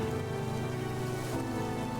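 Steady rain ambience fills a tabletop role-playing session, a dense, even patter of falling rain with no breaks, soft and continuous throughout.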